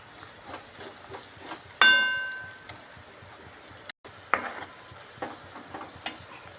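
Soft sizzling of onion tempering in a pan with a spoon clinking and scraping several times, one ringing metallic tap standing out; no one speaks.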